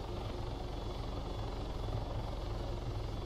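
A helicopter close by, its rotor chop and engine whine forming a steady, loud, continuous drone with no voices over it.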